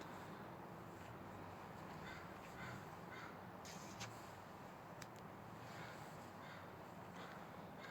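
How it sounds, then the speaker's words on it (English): Crows cawing outdoors, several harsh calls scattered over a few seconds, fairly distant and faint above a steady background of outdoor noise. "There's birds here. They make noises."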